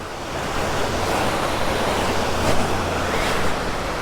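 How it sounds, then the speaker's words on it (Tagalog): A waterfall on the road to Baguio gives a steady, loud broadband rush of falling water that holds even throughout, with no voices. "Ayun oh, falls."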